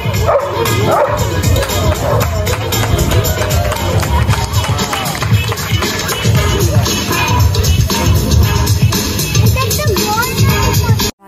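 Dogs at a dog show at the Buffalo Zoo bark and yip almost continuously over a loud, busy crowd, with talk mixed into the steady din throughout.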